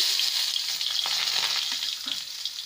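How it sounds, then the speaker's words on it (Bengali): Potatoes and carrots frying in refined oil in a wok, a loud continuous crackling sizzle with occasional stirring scrapes close by. "এবার এখানে কিছু ভেজিটেবলস আমি ফ্রাই করব।"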